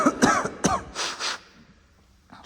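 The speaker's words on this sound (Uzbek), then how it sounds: "Juda yo'tal turib qoldi." A person coughs several times in quick harsh bursts, then clears the throat, close by with no other sound.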